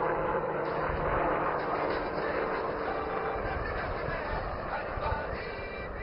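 A LUH helicopter holding a tail-up hover during an air show, giving a steady, loud rotor and turbine drone that stays constant throughout with no break.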